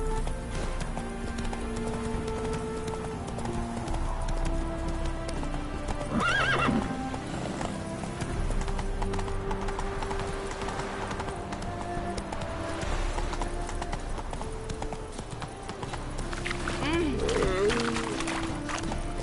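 Horse hooves clip-clop at a steady trot in The Witcher 3, a horse neighs and whinnies, and game music and ambience sit underneath.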